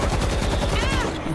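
Rapid automatic bursts from a gold AK rifle in the zombie shooter World War Z, steady fast gunfire lasting the whole moment, fairly quiet in the mix.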